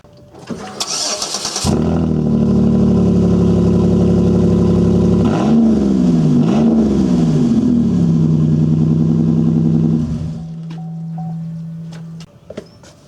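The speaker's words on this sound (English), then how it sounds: "start the car without the muffler on it so you can appreciate what it sounds like" A car engine cranks over and roars loudly with a raw rasp, running without its muffler, revving up twice before idling, then cutting off near the end.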